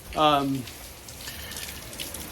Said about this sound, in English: As you can see, it just started raining like this not too long ago